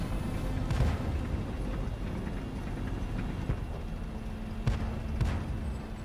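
Tank cannon fire in a World War II tank video game aimed at a Panzer V and M10, with a Hellcat tank destroyer involved; several loud booming shots ring out over a constant rumbling engine bed.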